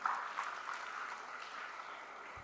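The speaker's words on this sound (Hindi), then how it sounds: "एक बार तालियां बजा भाई इन बच्चों के लिए" Audience clapping for children at a spiritual discourse, a short burst of moderately distant applause that fades slightly over a couple of seconds, with no voices over it.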